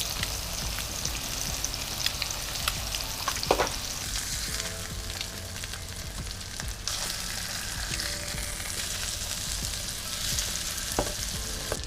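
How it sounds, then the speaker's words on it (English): Eggs frying in sausage fat in a pan for a keto breakfast sandwich, a steady close crackling sizzle with occasional louder pops and utensil clicks, no talking. "I am cooking these eggs in the same fat that I'm cooking the sausage in"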